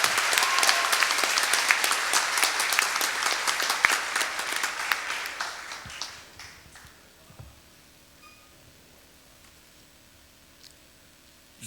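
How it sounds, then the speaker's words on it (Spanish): Audience applause at the closing ceremony of the XIX Panamanian Congress of Procedural Law, a loud, dense burst of clapping that thins out and fades after about six seconds, leaving a quiet room with a few scattered taps. "Un aplauso, por favor."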